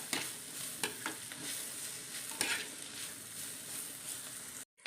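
Clam meat is stir-fried dry in a pan with coconut pieces, shallots and onion, giving a soft continuous sizzle broken by several scrapes and knocks of a stirring spoon, close and moderately quiet.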